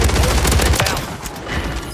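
Bursts of gunfire from the Call of Duty Warzone 3 video game, dense and loud for the first moment, then continuing as a rougher, scattered crackle of shots.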